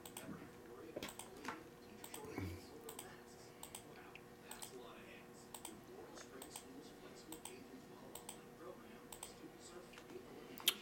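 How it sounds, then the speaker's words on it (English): Light, quick plastic clicks from a randomizer being clicked 11 times, repeated at a fairly steady pace over a quiet room background, faint and close. "We're going to click it 11 times."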